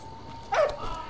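A single short dog bark rings out in the Valiant Hearts: The Great War video game, a sharp yip rising over a quiet ambient game background, close and brief.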